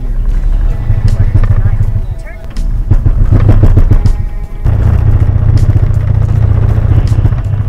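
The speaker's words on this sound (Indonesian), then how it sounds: "mobil menjadi tersendat dan bergetar seperti ini" A car with a failing CVT transmission runs with a rough, uneven judder, the low engine rumble surging and dropping in waves, loud and close throughout.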